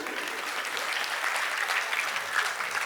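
Applause from the audience at the Swadeshi Mela fair in Surajgarh, an even, continuous wash of many hands clapping at moderate loudness throughout.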